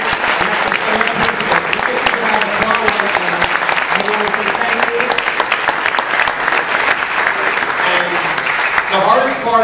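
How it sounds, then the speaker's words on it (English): An audience at a business awards luncheon applauds its leaders with sustained, dense clapping that fills the room steadily for nearly ten seconds, with a few voices rising near the end. "A round of applause for our leaders."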